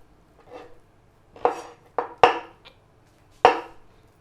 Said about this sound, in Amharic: ስለት ያለው ቢላ አዘጋጅተን በቃ መክተፍ ነው